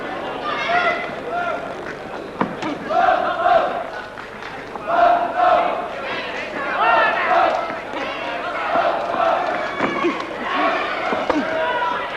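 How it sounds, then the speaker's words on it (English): A boxing arena crowd at an Alan Minter fight chants "boom boom" in a loud, rhythmic, repeated call that rises and falls across the whole stretch, dense and reverberant with scattered shouts. "This crowd setting up the boom boom chant."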